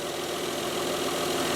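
A Mazda 626 engine fitted with new pulleys and drive belts idles steadily, a smooth, even hum with no voices over it.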